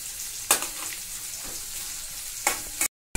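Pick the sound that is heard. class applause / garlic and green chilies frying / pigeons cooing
garlic and green chilies frying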